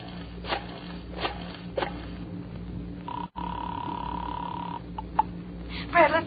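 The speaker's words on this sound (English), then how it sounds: "without looking at the phone, I dialed 7 times" Old telephone dialing heard in a radio crime drama: a few soft dial clicks, then a steady tone with a short break, then more brief electronic blips and a small burst near the end, moderately loud and without talk.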